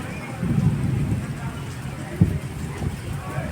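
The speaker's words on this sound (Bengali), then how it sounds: "অনেক মেঘ ডাকতেছে অনেক বৃষ্টি আসবে" Steady rain falls outdoors with a soft, low thunder rumble. A muffled voice sits underneath the patter.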